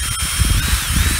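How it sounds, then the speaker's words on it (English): A power drill bores pilot holes into wood for a homemade cucumber trellis, giving a loud, steady high-pitched motor whine with a low rumbling churn beneath it, heard up close for about a second. "we're gonna use some pilot holes right here, just kind of drill down"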